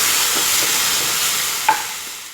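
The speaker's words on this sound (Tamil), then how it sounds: "இப்போ வந்து அரைச்சி வச்சுருக்க இந்த புதினா துவையெல்லாம் போட்டுக்கோங்க. நல்லா மிக்ஸ் பண்ணுங்கள்." Ground mint paste stirred into a hot pan for mint rice, giving a steady close sizzle with a single sharp scrape of the spoon near the end, no voices.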